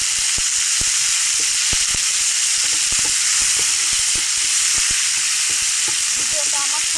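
Greens, including fenugreek leaves, sizzle loudly in a hot pan of oil, a dense continuous frying hiss broken by frequent small pops and crackles, close up with no talking.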